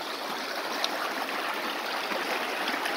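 Creek water flowing steadily near a bridge, a dense close rushing and trickling babble that stays constant and fairly loud, with no voices over it.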